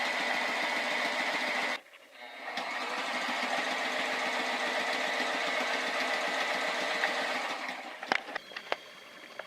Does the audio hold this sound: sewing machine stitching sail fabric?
yes